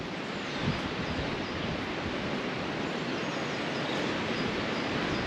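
Steady, roaring wind buffets the microphone continuously on the Simonside Hills in Northumberland, a loud broadband rush with no voices or other sounds breaking through.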